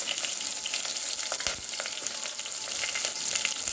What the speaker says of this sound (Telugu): ఆవాల జీలకర్ర వేస్తున్నాను తర్వాత ఉల్లిగడ్డలు వేస్తున్నానండి ఉల్లిగడ్డలు ఎండుమిరపకాయలు వేస్తున్నానండి